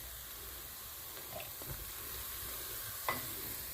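Tomatoes go into a pan of onions, garlic and ginger already frying; a quiet, steady sizzle hisses throughout, with a couple of faint clinks of the spoon.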